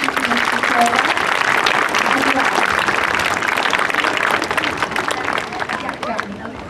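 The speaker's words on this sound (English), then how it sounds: "One more round of applause" Full, continuous applause from the audience at an elementary school spring concert by 4th and 5th graders, with faint voices and cheers mixed in, tapering slightly toward the end.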